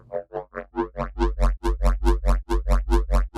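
A square riddim bass from the Serum synth with chorus pulses in a steady train of about fourteen loud, buzzy wobbling notes, each swelling and cutting off sharply in an even rhythm.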